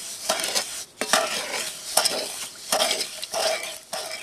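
Steady stirring of granulated sugar into buko pie filling in a bowl, with repeated scraping and swishing strokes at close range in a rhythmic series, and no talking.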